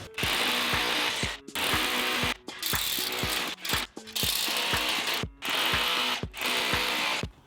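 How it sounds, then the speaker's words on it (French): A small power drill fitted with an 8 mm bit bores into a wall while installing a Geberit concealed toilet frame, whirring loudly in several bursts of a second or so, separated by short pauses. "Donc vous prenez votre forêt de 8, vous prenez la petite perceuse."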